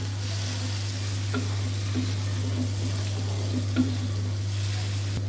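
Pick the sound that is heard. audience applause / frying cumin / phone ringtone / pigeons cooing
frying cumin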